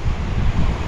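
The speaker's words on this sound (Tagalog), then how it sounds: "Ang lakas ng hangin" Strong wind buffets the microphone on a beach by clear water, a loud, continuous low roar with rushing gusts and no voices over it.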